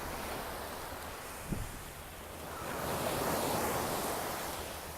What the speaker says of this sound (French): un petit coup de mer